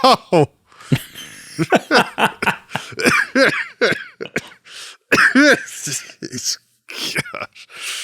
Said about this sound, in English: with his smoker's cough